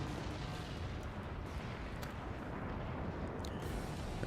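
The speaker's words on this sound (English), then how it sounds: "fires cannons until there is just nothing left" Cannons firing in the Forts real-time strategy game make a dense, continuous rumble of distant booms and bursts, steady and loud throughout with no talk.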